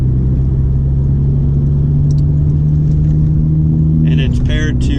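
Idling VW MK6 fitted with an APR catback exhaust, a loud steady low rumble with a droning tone that cuts off near the end as a voice starts talking.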